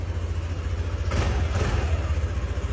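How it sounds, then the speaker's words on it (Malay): A 2024 Yamaha NVX155 V2 scooter with about 4,000 on the odometer idles close by in a steady, low putter, with a brief soft swell in the middle and no talk. "Engine memang smooth."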